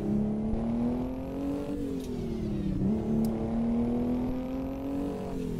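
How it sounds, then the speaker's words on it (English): A Kenworth truck engine in American Truck Simulator drones steadily at close range, with its pitch rising and dipping as the revs shift through a gear change, alone with no talk. "listen to that engine."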